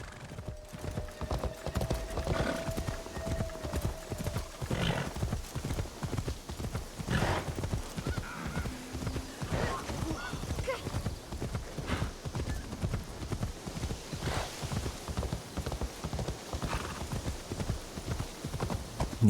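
Steady horse hooves clip-clop on the ground in the Assassin's Creed video game, set in 1582 Japan, a continuous rhythmic trot with a brief faint whinny-like tone early on.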